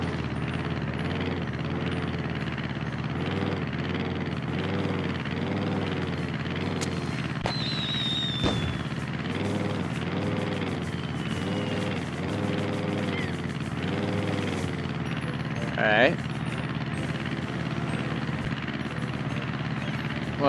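An airplane engine from the Wii Sports Resort video game drones steadily with a whirring, wavering propeller hum, joined by a brief high whistle and a short sharp burst near the end.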